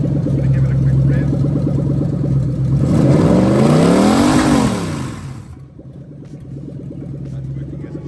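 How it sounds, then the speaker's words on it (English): A Lexus LS400 with the 1UZ-FE V8, a 1995–1996 model, idles close by, then is revved quickly, its pitch rising and falling, before it drops back to a steady idle. "I'm going to give it a quick rev."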